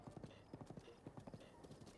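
Horse hooves clip-clop in a quick, steady trot in The Legend of Zelda: Breath of the Wild, a dense run of sharp hoof beats across two seconds, quiet and even with no talk.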